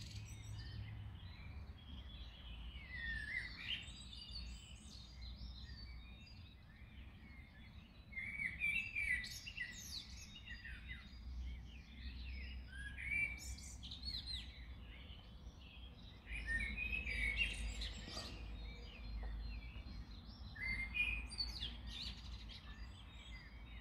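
Early morning birdsong outdoors, several birds chirping and warbling in bursts at a moderate distance over a low rumbling background, with faint insect hum and no voices.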